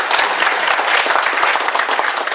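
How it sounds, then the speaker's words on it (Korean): Loud, dense applause from an audience at a patent office-hosted talk, continuous clapping without pause for the whole stretch. "우리 세 분들 위해서 박수 한번 부탁드릴까요?"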